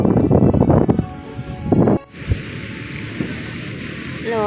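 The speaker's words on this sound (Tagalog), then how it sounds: "Lakas ng hangin" Loud, blustery wind buffets the microphone in rough gusts, then drops to a softer, steady rush.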